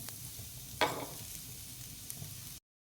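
Ingredients being dry-roasted in a pan: a soft continuous sizzling hiss with one brief scraping stir, faint and close, ending abruptly.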